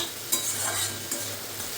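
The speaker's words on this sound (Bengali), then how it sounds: "শাকটাও আমার অলমোস্ট হয়ে গেছে, আর একটু ভাজা ভাজা হোক" Saag greens frying in plenty of oil, a dense close sizzle with a couple of sharp spatula stirs scraping the pan.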